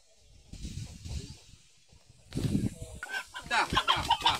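Village chickens, including native country roosters, cluck on a farm in a series of close, uneven bursts that start soft and become louder and busier toward the end.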